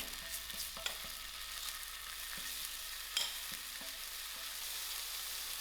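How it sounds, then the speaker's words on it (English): Ginger and garlic frying in melting ghee, a steady broadband sizzle with occasional stirring scrapes and one sharper clatter, close and continuous with no talking. "While my ghee is melting out, I'm going to start by putting in my ginger garlic"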